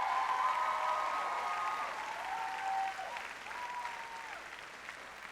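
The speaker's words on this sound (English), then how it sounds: "a round of applause for the entire class of 2014." Graduation-ceremony audience applauding the class of 2014, a sustained round of clapping that slowly tapers off, with a few faint whistles rising through it.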